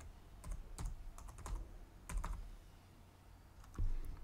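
Fingers type a file name on a computer keyboard in quick, irregular bursts of close, crisp keystrokes with brief pauses, and no voices.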